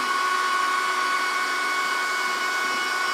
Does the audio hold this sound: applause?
no